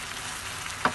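Tomatoes fry in a pan for a tomato-and-egg sauté, giving a brief, even, close hiss of sizzling with one soft knock just before it ends.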